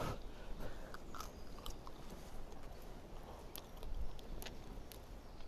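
Someone bites into and chews campfire-cooked survival bread, with faint, soft crunching and chewing sounds close by against a quiet outdoor background, no talking.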